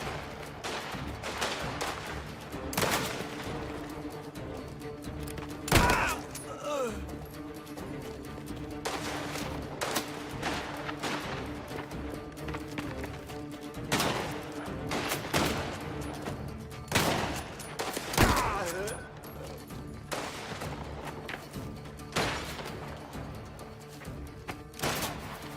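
Shotgun blasts in the video game Mafia: The Old Country, a dozen or so sharp booming shots at irregular intervals over an ongoing gunfight, moderately loud against steady background game sound.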